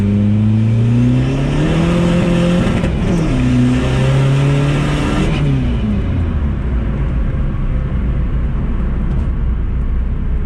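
A tuned VW TDI diesel car on a dyno, engine revving hard into boost with a rising howl and whistle, loud and continuous, pitch sweeping up and back several times before settling into a steady high-load drone.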